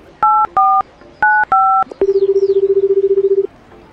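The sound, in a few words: phone call dialing tones in Toca Boca video game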